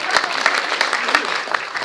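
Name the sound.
audience applause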